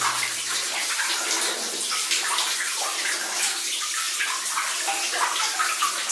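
Water rushes and splashes steadily through porous granite in the flooded Thorndyke Mine, a constant bright hissing flow close by with no voices.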